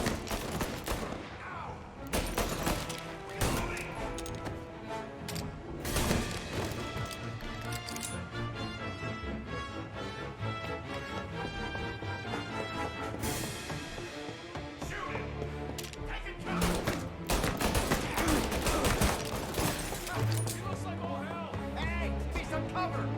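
Gunfire in the Mafia video game: repeated shots and rapid bursts, loud and close, layered over dense game music and effects, with voices shouting now and then.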